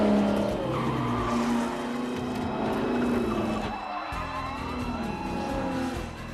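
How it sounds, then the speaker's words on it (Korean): Ford and Ferrari race car engines roar close by, with tires squealing as the cars swing through a turn; the revving rises and dips, then surges again. "포드 차의 엔진 소리와 페라리 소리가 다르지 않습니까?"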